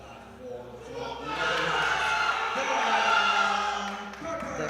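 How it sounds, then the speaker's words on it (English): Crowd at a powerlifting competition swelling into loud cheering and whooping for a lifter, rising after a second and holding strong before tapering off. "The crowd goes wild for him."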